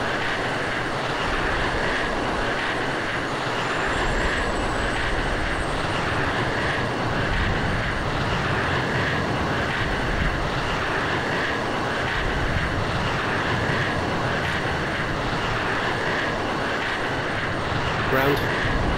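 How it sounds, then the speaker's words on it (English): Jet fuel starter of an F-16 spools up in the Falcon BMS flight simulator, a steady, loud, dense whine and roar that holds throughout with a faint rising tone early on. "and then I'm going to select the jet starter"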